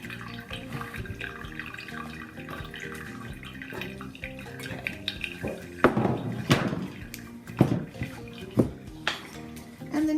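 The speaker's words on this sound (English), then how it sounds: "we're going to dump some of this liquid off the pan. I'll just dump the tomatoes in there too" Liquid and cooked tomatoes are dumped from a pan through a kitchen strainer, a close splashing pour with several sharp clanks and knocks of metal as the pan and strainer meet.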